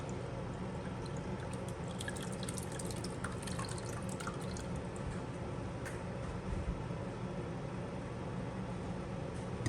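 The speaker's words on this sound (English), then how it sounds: "We're just going to pour this through the cheesecloth." Thin liquid goose fat trickling and dripping steadily through cheesecloth, a soft continuous pour with faint drips, no talking.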